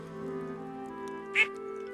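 In Stardew Valley, a duck gives one short, bright quack over steady game music with a low drone beneath.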